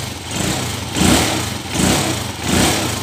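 A Honda TMX125 Alpha motorcycle converted to 175cc with a stock exhaust idles up close, a steady mid-pitched engine chug with gentle rhythmic pulses swelling roughly every three quarters of a second, no talk over it.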